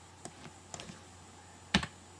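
A computer keyboard typing a web address, heard as a few sparse, quiet key clicks spread out and then one sharper, louder keystroke near the end.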